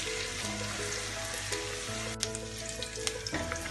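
Saag paneer ingredients sizzle and crackle as they fry crisp in a pan over a high gas flame, a steady dense hiss with occasional sharper pops and a few faint clinks.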